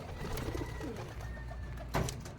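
Pigeons coo softly and repeatedly in a loft of young racing birds, blue bar and checkered, with a louder flutter or burst near the end over steady low background noise.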